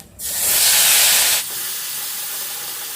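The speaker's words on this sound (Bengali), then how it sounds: "এবার যে পেস্টটা আমি বানিয়ে রেখেছিলাম সেই পেস্টটা এখানে দিয়ে দিলাম" Spice paste drops into hot oil already holding cumin seeds and a dried red chilli for a pointed gourd dish, bursting into a loud, steady sizzle that settles after about a second into a quieter, continuous hiss.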